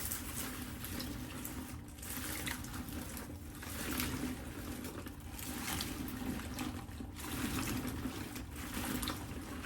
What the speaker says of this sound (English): I just want to submerge these a little bit because they're just pretty dirty